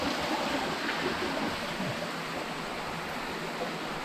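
Water dropping down inside a cave at the Tumpak Sewu waterfall trek, producing a constant broad rushing roar that stays level and close throughout, with no talking.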